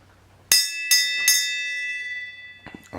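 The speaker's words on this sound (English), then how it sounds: "You want to ring the bell?" Three sharp metallic strikes of a bell ring out in a steady rhythm, each leaving a long bright decay, followed by a couple of softer knocks in a garage setting.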